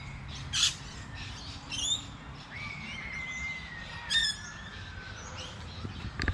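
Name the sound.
noisy birds screaming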